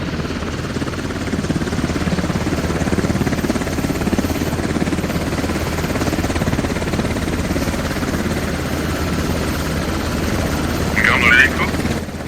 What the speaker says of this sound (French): C'est une hélico.